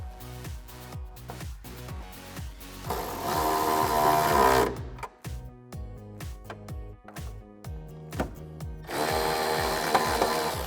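A power tool drives factory hardware back in on a 2010-2012 Mustang tail light, a rhythmic mechanical rattle rising into a sustained whirring run, pausing, then spinning up again, close up with no talk.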